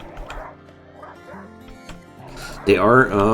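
Man-hunting dogs in the video game RimWorld bark and yip in short bursts, a few sharp barks then a louder whimpering yelp at the end, heard behind someone talking.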